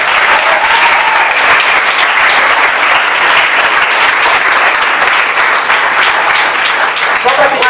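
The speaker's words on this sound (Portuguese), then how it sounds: "Pode aplaudir a Jesus Cristo." A church congregation claps loudly and continuously in worship, a thick wash of applause running throughout with a voice faintly audible beneath it.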